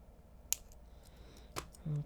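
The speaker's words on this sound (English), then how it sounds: "Once you have the figure 8 pattern, cut it in the middle." Scissors snipping through beading wire while stringing a wire-wrapped pendant, two sharp, close clicks spaced about a second apart in a quiet room.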